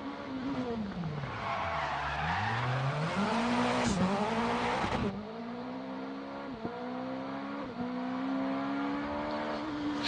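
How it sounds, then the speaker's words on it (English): A rallycross car in the Assetto Corsa racing game revs hard with skidding tires, then its engine tone drops and sharp exhaust pops crackle on the overrun, loud and close. "there's lots of nice little pops and bangs on the go that's making me smile."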